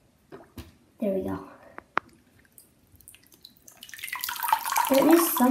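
Water drains and trickles out of a floating model aircraft carrier, starting with a few scattered drips and splashes and building into a steady, close pour toward the end, with no voice over it.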